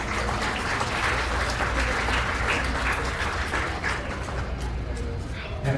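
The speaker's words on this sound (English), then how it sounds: "Give these 4 youth a big round of applause." Applause from the crowd at a youth goat show in Page County, a steady dense patter of clapping filling the whole stretch with no clear pauses.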